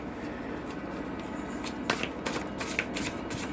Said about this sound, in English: I have already pre-shuffled the cards